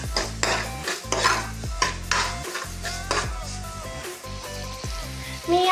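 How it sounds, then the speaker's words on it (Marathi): Maggi noodles with pav bhaji masala and chilli powder being stirred in a pan, rhythmic scraping strokes of a spoon against metal at a steady pace over a light sizzle, close and clear with no talking. "इथे मिक्स करते बघा मी."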